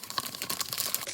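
Crinkly plastic bag being pulled down over a glass jar during a home craft project with plaster, a close, steady run of rustling and crackling for about a second.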